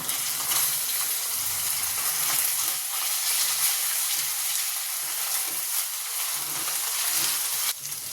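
Onion sizzling and frying in a pan with a spoonful of ginger-garlic paste stirred in, a steady close hiss with occasional stirring scrapes running throughout.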